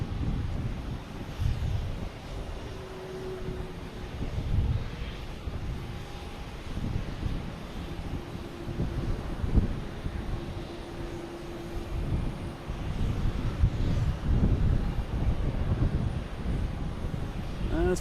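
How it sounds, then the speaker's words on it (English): An Airbus A320 arriving at Boston Logan Airport roars as a broad, steady jet engine rumble at moderate distance, swelling slightly over the stretch with wind buffeting the microphone throughout. "here's the Tampa flight here coming in."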